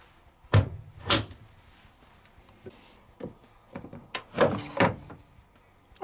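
A Beko Excellence washing machine's detergent drawer being handled, giving several plastic clunks and sliding knocks spaced irregularly, close up with quiet pauses between.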